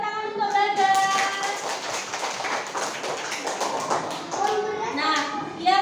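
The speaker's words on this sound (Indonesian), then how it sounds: "Beri tepuk tangan untuk Bagas." Children in a classroom clap together in a quick, rhythmic burst of taps. Kids' voices and an adult speaking carry over the clapping throughout.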